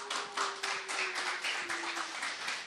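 Audience clapping during a church youth-department lesson briefing, a fairly dense patter of hand claps from a small crowd in a hall, steady for a few seconds, with a faint sustained tone running underneath.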